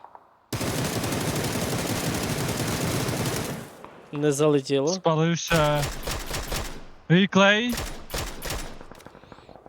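Rapid, dense PUBG gunfire on the Miramar map blasts continuously for about four seconds, then someone commentating in Ukrainian talks excitedly over quieter game sounds.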